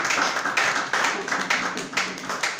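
A church congregation claps together in a steady, brisk rhythm, the sharp hand claps coming roughly twice a second, loud and close, with no voices over them.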